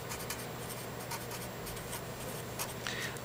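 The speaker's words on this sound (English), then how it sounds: "So if I was Demaya, I would take my Sharpie and I would start to write" A Sharpie marker writes on fabric or paper for a story quilt, giving a continuous soft scratchy rubbing with short strokes, close and steady under a faint background hum.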